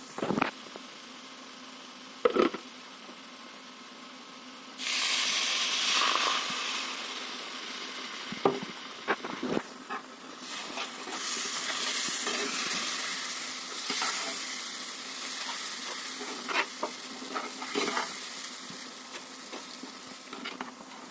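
Milk is poured into a hot pan of fried flour and cocoa and gives a sudden loud sizzle. A steady hiss follows, with scattered clicks of stirring, and no voices.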